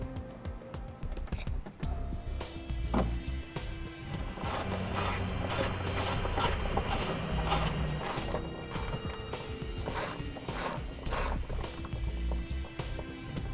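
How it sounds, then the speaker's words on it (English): Flathead screwdriver prying plastic push fasteners from a trim panel under a 2014 Nissan Altima, close plastic clicks and scraping taps in an irregular rapid series over a low background hum. "take a flathead screwdriver, slide it in underneath the center section of the fastener"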